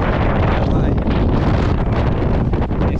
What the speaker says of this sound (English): I've experienced wind before, but not like this.